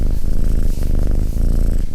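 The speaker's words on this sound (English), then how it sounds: "this cute little squeaky voice that cats make when they're purring" A steady, close cat purr rumbles continuously, with soft rhythmic pulses and a faint squeaky tone riding on top.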